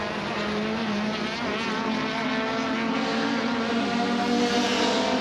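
Saloon race cars in the 2018 MRF Challenge sweep past in a continuous, loud engine drone with rising and falling tones, several cars overlapping as they come over a brow on the circuit.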